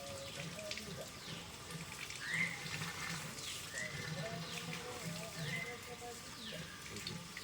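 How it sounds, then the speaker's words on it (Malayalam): Water runs steadily through a vessel-type water filter as it is installed, a continuous trickling and splashing flow that holds at an even level, with faint background sounds underneath. "ഫിൽറ്ററിൽ അപ്പോൾ വെള്ളം ഇങ്ങോട്ട് വന്നു"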